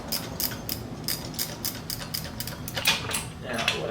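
A ratchet clicks in quick repeated bursts while a bolt is tightened during removal of a TH400 transmission, close and fairly loud, with faint speech mixed in.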